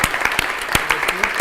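An audience claps in a steady stream of crisp, rapid hand claps, loud and close, with no voices standing out.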